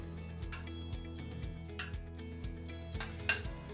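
Sushi ingredients scraped and spooned from one bowl into another, with repeated clinks and scrapes of a utensil on dishes, close and fairly quiet, no talking.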